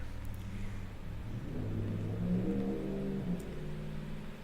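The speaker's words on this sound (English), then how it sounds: "There's like a lot of noisy cars going by." Noisy cars passing on a nearby road, a steady close rumble of engines that swells in the middle as one vehicle goes by, with no other sounds over it.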